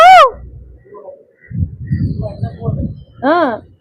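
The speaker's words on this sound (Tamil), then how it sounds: "குயில் கூவுது பாத்தீங்களா? உங்களுக்கு கேக்குதா?" Two rising, ringing calls of an Asian koel, one at the start and one near the end, with low murmured talk in between.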